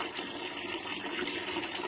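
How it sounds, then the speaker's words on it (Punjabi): Dirty, sewage-contaminated water gushes steadily from a household tap in Patiala, a continuous rushing splash that fills the whole short stretch at moderate level, with no talking. "ਜੇ ਤੁਸੀਂ ਟੂਟੀ ਖੋਲੋਗੇ ਨਾ ਤਾਂ ਬਿਲਕੁਲ ਐਨ ਕਾਲਾ ਪਾਣੀ ਆਦਾ"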